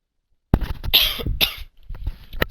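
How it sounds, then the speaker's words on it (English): A person coughs several times in quick succession, loud and close, with a short pause before a final cough, heard before an online race. "I had to let out the pre-race coughs."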